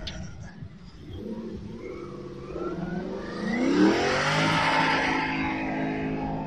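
Car engine revving hard in the open, rising in pitch and loudness as the throttle climbs, then holding a strained high roar, with faint voices in the background.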